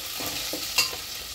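Potatoes and onions with green chillies fry in a pan for aloo poha while being stirred, a soft steady sizzle broken by a few scraping strokes and one brief clink, close and moderately quiet.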